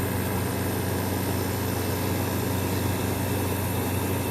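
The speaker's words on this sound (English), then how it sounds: "Very nice sounding compressor." Arctic King 5000 BTU air conditioner compressor running, a steady low hum under broad, constant blowing noise with no pauses.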